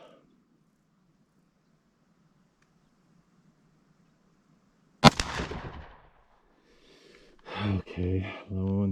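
A single sharp pistol shot at an outdoor shooting range cracks loudly out of near silence and decays quickly, followed by someone speaking.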